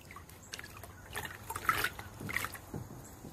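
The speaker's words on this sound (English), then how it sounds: "I'm just adding more water to it to dilute this" Water pours and trickles into an iron bucket of ferrous sulfate solution on a porch. The sound is faint and steady, with some light splashes and no talking.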